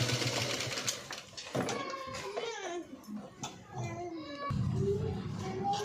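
A sewing machine runs in short buzzing stretches while stitching piping onto a boat neck, near and moderately loud, with voices and a child's sounds mixed in over it.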